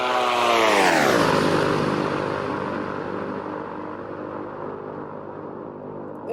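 A military jet roars loudly overhead during an air show flyover at the White House, its pitch sweeping down as it passes and the rumble fading away into the distance.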